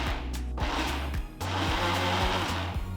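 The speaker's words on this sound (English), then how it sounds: "transfer it to a mixer jar and grind it to a nice fine powder" A mixer grinder whirs loudly as it grinds roasted peanuts with rock salt into a fine masala powder. It runs in short pulses, stopping briefly twice before spinning up again to a sustained, close whine.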